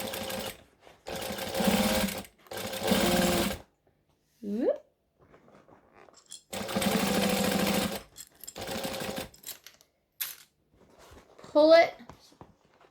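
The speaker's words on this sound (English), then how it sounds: "I'm going to stitch, back stitch." A home sewing machine stitches and back stitches in several bursts of rapid, even mechanical whirring, separated by silent pauses, with someone talking briefly between runs.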